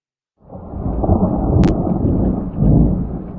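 A heavy thunderstorm rumble rolls in loud and close, sustained for several seconds with a brief crackling lightning snap near the middle and a second swell of deep thunder toward the end, no voices.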